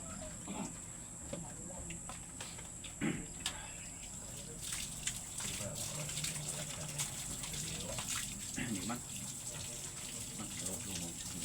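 Water runs and splashes into a container, gurgling unevenly at moderate volume while people talk nearby and occasional knocks and clatters sound.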